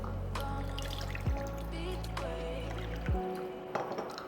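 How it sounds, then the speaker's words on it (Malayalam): Four cups of water poured into a bowl to make a brine for pork ribs, a soft steady trickle and splash lasting a few seconds over faint background tones. "ഒരു പാത്രത്തിലോട്ട് 4 കപ്പ് വാട്ടർ ആഡ് ചെയ്യുക."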